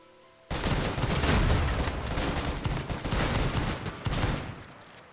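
Dense, sustained gunfire and rocket launcher blasts from a RimWorld battle, rattling continuously at close range after a sudden start, with rapid bursts overlapping throughout.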